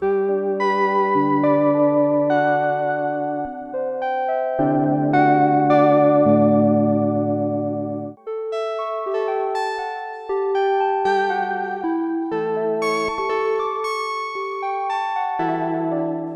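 A Sequential Take 5 synthesizer plays a chordal patch drenched in chorus, distortion and echo, with sustained layered chords shifting into bright, chiming arpeggiated notes, steady and loud throughout with no voices.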